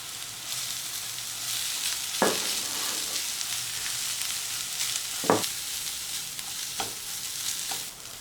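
Shredded boiled chicken sizzles steadily as it fries in oil, with a few sharp knocks of the stirring utensil against the pan at irregular intervals, close and continuous with no talking.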